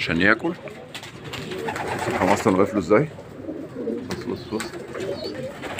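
Pigeons in a loft coo steadily while coming into their nest boxes to feed, a low warbling murmur running beneath someone talking throughout.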